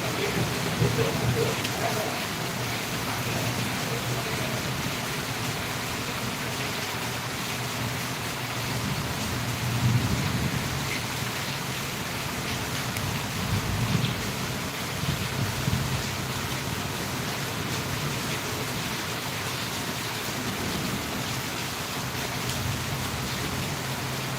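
Heavy rain pours steadily in Valliyur, a dense constant hiss of drops on surfaces with low rumbles of distant thunder rolling underneath, close and unbroken for the whole stretch.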